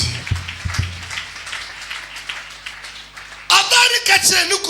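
A church congregation breaks into loud, sustained applause and acclamation for Jesus during a worship service, following a stretch of preaching voice.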